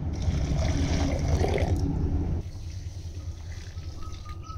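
Small dhura fish rinsed a second time in water in a Barishal kitchen: continuous close sloshing and trickling for about two seconds, then a quieter, steadier water sound with a faint tonal hum, no voices.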